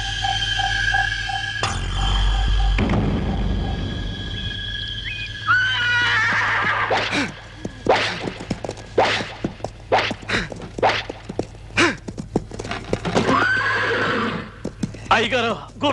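Horses in a Telugu film scene whinny loudly and repeatedly over a background music drone, with a busy run of sharp hoof clip-clops and thuds in the second half.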